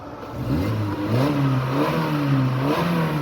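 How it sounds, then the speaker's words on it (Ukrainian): A 2004 Skoda Octavia 1.6 MPI engine revs up and down several times in smooth rising and falling sweeps, loud and close, with no voices. "Я зараз погазую, нічого не димить."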